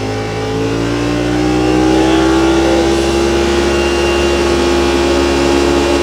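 A 2023 Yamaha RMAX UTV engine is held at full throttle, its steady loud drone rising slightly in pitch as revs climb toward about 8,500 RPM, close by with no talk.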